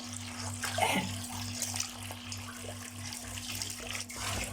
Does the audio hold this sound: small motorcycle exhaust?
no